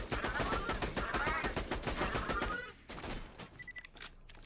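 Sustained rapid automatic gunfire from a magazine being emptied in Borderlands 2 while fighting Hyperius, loud and continuous for nearly three seconds, then quieter scattered shots and game effects.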